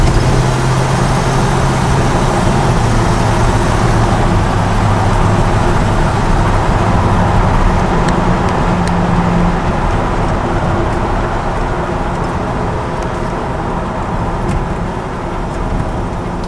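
A 1954 Ford F-100 pickup with an aluminum radiator cruises along the road, its engine drone and tire rumble steady and close throughout, a continuous low mechanical hum with no voices.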